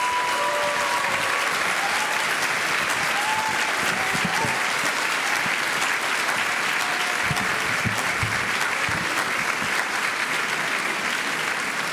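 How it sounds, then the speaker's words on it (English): Audience applause at a choir's Christmas concert, a full, sustained wash of clapping from the crowd that stays loud and even from start to finish. "Let's give everyone a big round of applause."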